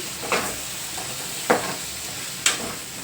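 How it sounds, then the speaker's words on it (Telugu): Boiled raw prawns fry in oil with masala spices, a steady soft sizzle punctuated by three distinct stirring scrapes roughly a second apart. "ఇప్పుడు ఇవి కూడా కాసేపు నూనెలో ఫ్రై చేసుకోవాలి ఈ మసాలాలతో కలిపి"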